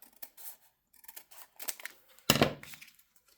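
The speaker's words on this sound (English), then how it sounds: "I am cutting the fold off." Scissors cut the fold off a sheet of journal paper, giving several short snips and crisp slicing strokes close up, with a louder, longer cut near the end.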